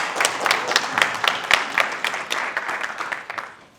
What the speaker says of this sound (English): So maybe we can give each other a round of applause and it'll make more sense.